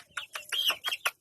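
Chickens on a small farm clucking in a run of short, close, high-pitched calls, four or five bursts in quick succession with no talking.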